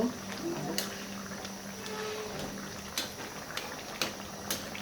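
Fish curry bubbling in a pan after cumin powder goes in, a steady low simmering hiss with a few sharp scraping clicks from stirring at roughly one-second intervals, close and fairly quiet.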